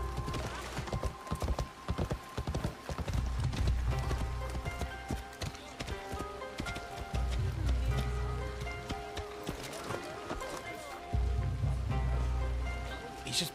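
Horse hooves clip-clop steadily in the video game Assassin's Creed Shadows, moving along busy harvest fields near Fukuchiyama, mixed with occasional whinnies and game ambience.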